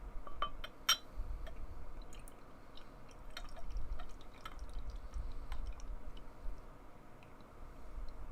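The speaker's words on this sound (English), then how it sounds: "I'll be drinking out of my untapped tulip glass, and let's see how this one pours." Rye whiskey barrel-aged imperial brown ale is poured into a tulip glass, giving soft liquid trickling and fizzing with a few sharp glassy clinks and drips, close and fairly quiet with no speech.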